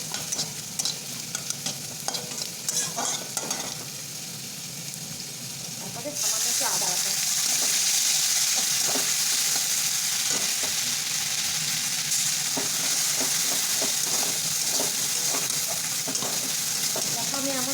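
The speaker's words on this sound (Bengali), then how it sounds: "তো এবার আমি একটু ফোড়ন দিয়ে দিলাম ফোড়নে যে একটা ফোড়ন মানে একটু লঙ্কা দিতে হবে আর পাতা আর পাঁচ ফোড়ন" Dried chili, leaves and panch phoron sizzle in hot oil for a shukto tempering. The loud, steady frying hiss starts a few seconds in and continues throughout, with a voice talking over it.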